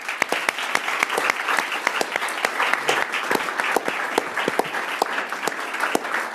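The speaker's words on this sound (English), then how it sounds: "So I'd like to give Matt and invite everyone a round of applause." Audience clapping at a city council regular session in Bountiful, a dense, steady round of applause with many sharp individual claps, sustained and fairly close throughout.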